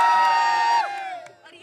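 Crowd at a Samajwadi Party political rally in Uttar Pradesh cheering and shouting, loud and close, with one sustained cry that breaks off and fades into lower crowd noise.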